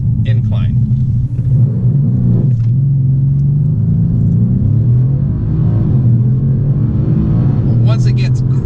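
Mercedes C63 AMG with 503 horsepower launching on a slight incline, a loud sustained low engine rumble with rising revs held for several seconds, interrupted by short bursts of talk.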